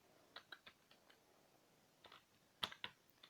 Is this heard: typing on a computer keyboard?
yes